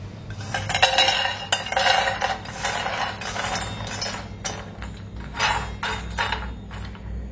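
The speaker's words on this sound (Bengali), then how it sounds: "এবার এই বাটিতে ঢেলে নেব।" Cooked food being scraped and poured from a metal pan into a bowl after the gas is turned off, heard as busy clattering and scraping of utensil against cookware, fairly loud and close, with repeated clinks throughout and no talking.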